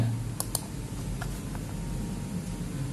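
Typing on a computer keyboard for an SMD IC datasheet search: a few faint, scattered key clicks over steady background hiss, with no one talking.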